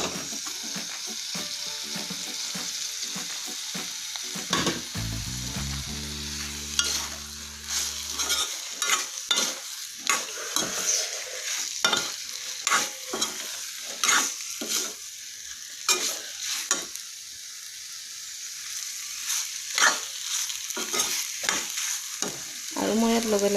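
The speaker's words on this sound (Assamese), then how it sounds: "ইয়াত মই এতিয়া যিখিনি আলু ৰাখিছিলোঁ মই ভাজি আলুখিনি মই এতিয়া ইয়াত দি দিম।" Fried potatoes are tipped into frying masala in a wok for a curry with curry leaves, giving a close, continuous sizzle broken by repeated scraping strokes of a spoon stirring against the pan.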